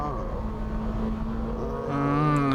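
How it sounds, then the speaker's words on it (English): Honda Integra Type R DC5 driving over a rough road surface, with a steady engine drone and tyre rumble heard from inside the car that swells louder near the end. "The road surface is quite rough here, but this car is handling very well."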